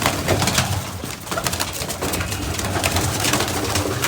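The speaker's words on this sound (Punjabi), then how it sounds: "ਲਿਆਓ ਕਬੂਤਰ ਕੱਢੀਏ ਸਾਰੇ ਬਾਹਰ" Pigeons let out of their coop coo steadily and loudly, many birds overlapping in a dense, continuous chorus nearby, with no talking.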